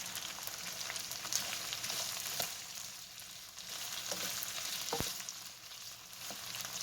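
Browning, crispy potatoes fry in a pan while a spoon stirs them, a constant close sizzle broken by occasional scrapes and one sharp knock against the pan.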